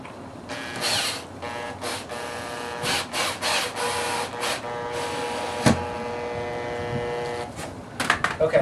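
A screw is power-driven into a new wooden 2x6 front door threshold, giving a whirring, buzzing drive in several short bursts with pauses between them, then a sharp knock and a quick cluster of clicks at the end.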